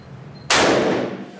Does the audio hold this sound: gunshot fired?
yes